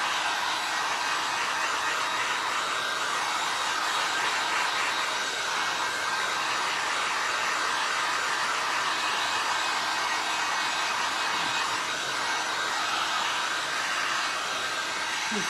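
A hair dryer blows on a white textured glass-and-resin flower to dry the resin, a loud, steady, continuous whoosh that holds for the whole stretch with no voices.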